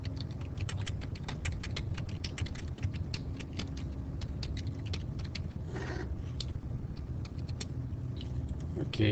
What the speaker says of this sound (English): Here, let me type.